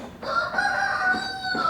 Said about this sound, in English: The rooster is hiding from the storm.